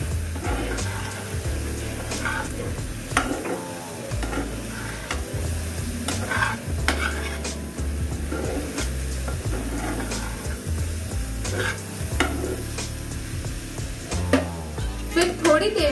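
A spiced vegetable mixture for veg lollipops is stirred in a frying pan, giving steady sizzling with repeated scraping strokes of a spoon throughout, close and fairly loud, no talk.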